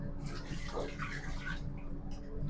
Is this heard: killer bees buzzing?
no